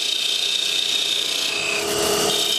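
A parting tool cuts into spinning wood on a lathe, giving a steady, close, bright rasping hiss that runs continuously with a slight shift in pitch partway through.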